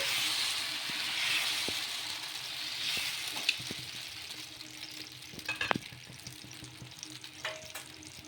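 Tomato dosa batter sizzles on a hot pan as it is spread, a steady frying hiss with occasional clicks and scrapes of the ladle, fairly soft and close.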